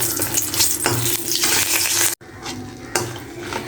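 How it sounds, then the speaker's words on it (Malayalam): Dried red chilies crackle and sizzle in a pan for a chili chutney, a dense frying hiss with repeated stirring scrapes, close and loud, briefly cut by a short gap. "മുളക് പെട്ടെന്ന് വറവാകും അപ്പോൾ നോക്കിയിട്ട് വേണം ഇളക്കി നന്നായിട്ട് ഇളക്കി കൊടുക്കണം"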